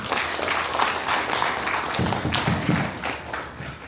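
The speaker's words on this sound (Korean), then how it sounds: "큰 스님께 거듭 큰 박수 부탁드리겠습니다." Renewed applause for a great Buddhist monk at the founding ceremony and first academic conference of a Taego Buddhist culture society; a hall full of people claps briskly and close, with some louder individual claps standing out.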